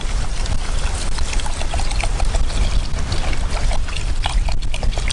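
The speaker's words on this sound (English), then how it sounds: "I'm just going to throw some water in, up to the first knuckle." Water is poured into a pot of rice outdoors at a beach cook-up, a continuous loud splashing gush that runs steadily throughout without pause.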